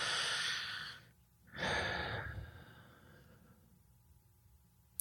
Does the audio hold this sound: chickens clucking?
no